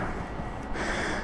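A morbidly obese man breathes heavily in a garage while cleaning a motorcycle chain, with loud, close, rough exhalations and snorting breaths and no talk.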